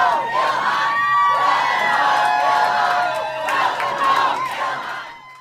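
A large rally crowd cheers and shouts in unison, a loud, sustained roar of many voices with rising and falling swells that fades out near the end.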